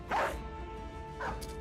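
A war dog in the Battle Brothers video game gives two short barks about a second apart, close and fairly loud over a faint steady background hum.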